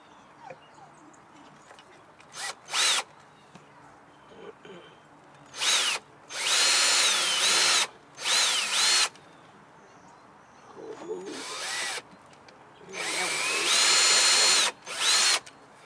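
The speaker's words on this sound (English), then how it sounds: "And drill your hole." A power drill whirs in several short bursts and longer runs, revving up and stopping, close and loud against a quiet room, drilling holes while building a screen printing exposure unit.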